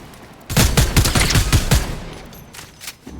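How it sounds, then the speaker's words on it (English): Rapid gunfire from a Fortnite match, a loud close burst of repeated shots lasting about a second and a half before fading into a lingering rumble. "So there's some gunshots underneath"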